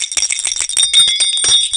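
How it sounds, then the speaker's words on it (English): Several small metal jingle bells rattle and tinkle continuously in bright, close shaking bursts, with no talk over them. "Yes, you're hearing it right. Fucking jingle bells."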